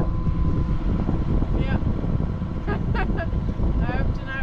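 A sailboat motoring under engine at 1800 revs at sea in the Baltic in April, a steady low engine drone mixed with wind rumble and water noise throughout, with faint voices underneath.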